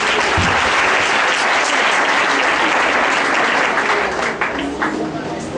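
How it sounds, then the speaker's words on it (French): A church congregation at a 2013 Pentecost service claps: dense, loud applause that fills the whole stretch and fades slightly toward the end. "On acclame le Seigneur."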